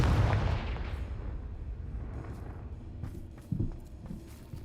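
Confringo fire spell in Hogwarts Legacy on PS5, a loud booming blast that rolls off into a long rumbling decay, followed by lighter thuds and footsteps, with no talking.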